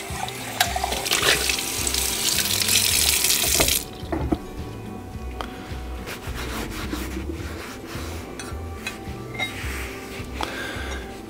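A pan rinsed under a running tap after vinegar spray rust removal: a loud, steady rush of water for about four seconds, then quieter rubbing and splashing with faint knocks.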